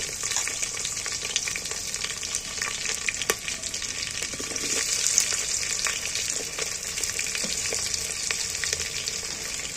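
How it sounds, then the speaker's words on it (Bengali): Large-cut onions sizzle in hot oil for a wedding-style meat curry while being stirred, giving a steady, close hiss with occasional light scrapes and no talking. "এবার আমি তেলের মধ্যে পেঁয়াজগুলোকে ভালো করে লাল লাল করে নেড়ে ধুয়ে দেবো"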